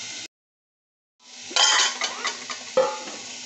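Fish-curry gravy is poured from a pot into a bowl at home, marked by a short silence, then close clinks, scrapes and soft wet sloshing of metal cookware in quick irregular bursts.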